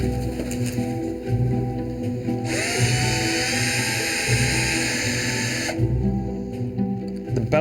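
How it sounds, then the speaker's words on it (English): A surgical drill bores screw holes into the small bones of an animal's hock to fix an orthopaedic implant, a loud, steady high whine lasting about three seconds over a constant background hum, with no talk. "There's a number of screw holes that I need to drill"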